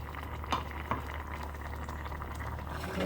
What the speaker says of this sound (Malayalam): തിളച്ച് വരട്ടെ.